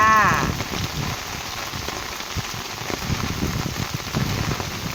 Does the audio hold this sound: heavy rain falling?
yes